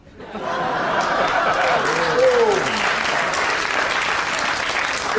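Studio audience of women applauding loudly and steadily on a comedy panel show, dense clapping with a few laughs and whoops mixed in, rising quickly and sustained.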